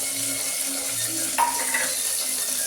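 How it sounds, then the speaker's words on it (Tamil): Onions sizzle and fry in a hot mustard seed tempering for avarakkai poriyal, a continuous bright crackling hiss with a brief stir of the pan midway. "கடுகு நல்லா பொரிஞ்சதும் நம்ம வெங்காயத்தை போடுறோம் தாளிக்கு."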